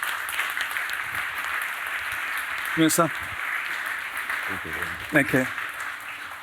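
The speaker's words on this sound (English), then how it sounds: "Can we have a round of applause for Lord John Lee, please?" An audience at an investor event applauds Lord John Lee as a steady background patter of clapping, while someone speaks briefly over it near the end.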